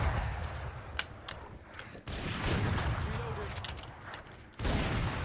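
Gunfire from a first-person shooter video game, played on a PC with no graphics card, crackles in dense continuous bursts, with sharp isolated shots breaking through and louder volleys near the end.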